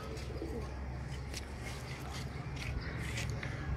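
Sialkoti high flyer pigeons coo softly within a steady background hum, with low repeated murmuring calls and brief higher bursts, and no clear talk.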